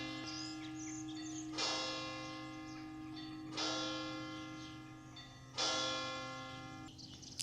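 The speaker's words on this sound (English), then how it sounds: "here comes the bells." Church bells in Umbria, Italy ring in slow, evenly spaced strikes, each tone swelling and fading over a steady low hum, heard from a moderate distance.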